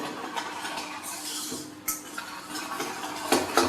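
Choux pastry dough stirred steadily in a pan, soft scraping and light clinks of the utensil against the pan repeating close by with no talk.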